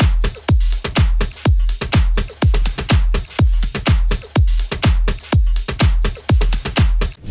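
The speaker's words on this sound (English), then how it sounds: "I have a simple drum loop over here that sounds like this." A simple drum loop with punchy kicks and sharp snare and hi-hat hits repeats in a steady, tight rhythm, loud and dry with no voices.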